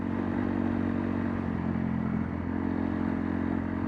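A cheap, small trail motorcycle with tired front suspension rides over rough ground on Russel Ridge, its steady engine drone close and continuous, with faint clatter and rattle from the bike over the bumps.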